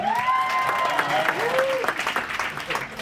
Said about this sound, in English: We're not applauding for Jonathan.